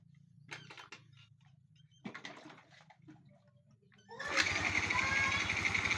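Motorcycle with a hard-starting fault from a stuck intake valve: a few faint clicks and mechanical clatter, then the engine cranks and catches into a loud, close, rapid chugging that continues steadily.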